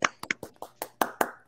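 A few people clap during an interview about a junior basketball player, giving about eight sharp, separate claps at an uneven pace, close by and fairly loud, with no talking over them.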